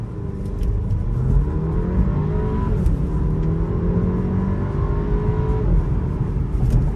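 A 2017 Porsche Macan launches hard from a held 5,000 RPM, its engine note climbing steadily in loud rising sweeps with a gear change near the end, no talking over it.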